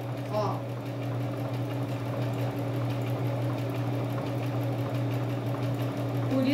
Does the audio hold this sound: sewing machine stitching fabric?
yes